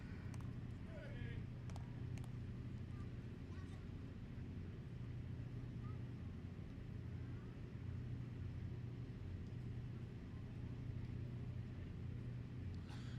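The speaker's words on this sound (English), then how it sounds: "This will be a diesel four-wheel drive." A diesel four-wheel-drive truck at a tractor pull, its engine a low steady rumbling idle at a distance under the loud chatter of an outdoor crowd and announcer.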